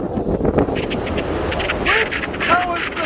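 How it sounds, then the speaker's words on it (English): Strong coastal wind buffets the microphone in a steady, roaring rush of noise, gusting slightly louder at moments across the three seconds, with no clear talk. "And seriously, Clive, it's very windy."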